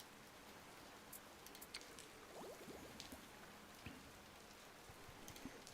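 Rain in an ocean survival video game falls as a soft, steady hiss with scattered droplet patters, quiet and continuous throughout with no voices.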